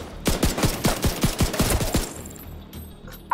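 Automatic gunfire from Tom Clancy's The Division 2 video game: a loud, rapid burst of about a dozen shots in steady rhythm, then a fading echo, with no talk.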